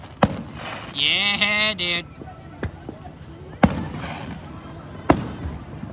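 Fourth of July fireworks burst in several sharp, loud booms spread across the scene, with a crackling, whistling display near the start and people talking and cheering in between.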